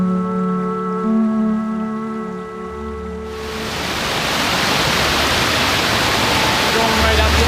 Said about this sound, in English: You get to a little river that's flowing down the mountain,